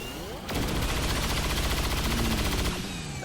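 Bluescreen rounds fired in XCOM 2 make a loud, sustained burst of automatic gunfire lasting about two seconds, close and dominant, with background game sound before and after.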